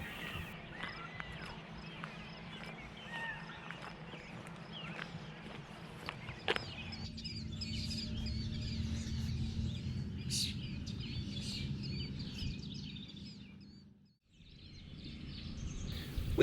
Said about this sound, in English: You just can't miss all the birds singing in these trees.